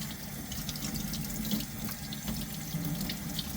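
Tap water runs steadily into a sink while Datalogic PowerScan barcode scanner parts are being washed, a constant close splashing stream with faint clinks and no talking.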